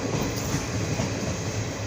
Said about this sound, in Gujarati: હવે ટ્રેનવાળાએ સ્પીડ વધારી છે